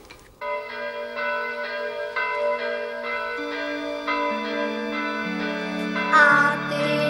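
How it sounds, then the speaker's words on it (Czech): Church bells ring out in a Czech fairy-tale setting, several tuned bells sounding together in a steady, full peal that stays loud and close throughout, with no talking over them. "A ty naše zvony pěkně vyzvánějí, lidé povídají, že nevěstě hrají."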